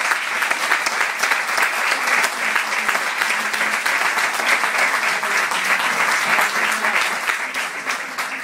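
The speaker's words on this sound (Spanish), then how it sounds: "No aplauden más" Audience applause at the close of a medical talk on fibromyalgia in a lecture hall, dense sustained clapping from a sizeable crowd, loud and continuous throughout with no voices over it.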